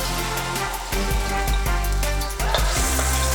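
Loud, close sizzling of minced garlic frying in hot oil, a constant crackle with bursts of popping and the occasional scrape of a utensil.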